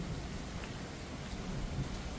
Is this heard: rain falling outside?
yes